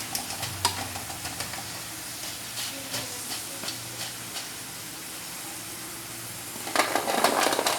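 French fries are stirred in hot frying oil, giving a soft continuous sizzle and hiss with light scraping clinks, which swells louder near the end.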